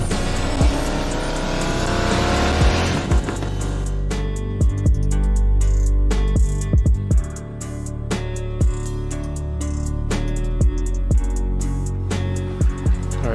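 Race car engine in NFS Payback held in fourth gear, a loud continuous drone with rising and falling revs and sharp shift-like transients throughout, no voices.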